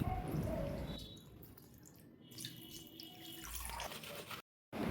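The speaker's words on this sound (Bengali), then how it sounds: "এটা পঞ্চামৃত দিয়ে ঠাকুরকে স্নান করানো হচ্ছে" Panchamrit pours over a deity idol in a Janmashtami ritual bath, a soft liquid trickle and dripping at close range, faint, with a brief drop-out near the end.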